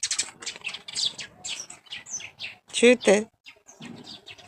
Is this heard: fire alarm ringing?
no